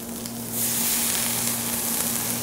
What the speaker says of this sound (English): Then I'm gonna just saute these up with this.